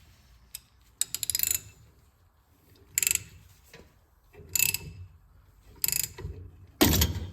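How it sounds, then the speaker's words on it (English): Hand puller working a rear axle part off a 1970 MGB GT, giving bursts of close metallic ratcheting clicks in several separate spells with pauses between, the last burst loudest. "hopefully my little puller here is gonna do the trick"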